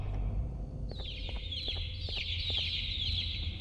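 Chicks chirp in the horror video game Garten of Banban 2: a string of bright, repeated high peeps over a steady low rumbling ambience, with no talking.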